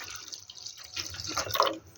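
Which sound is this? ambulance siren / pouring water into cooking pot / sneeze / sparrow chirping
pouring water into cooking pot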